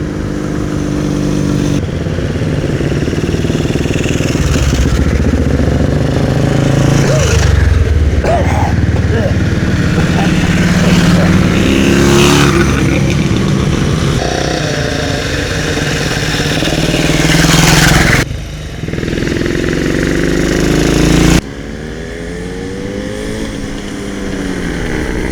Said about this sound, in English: that's the last of the bikes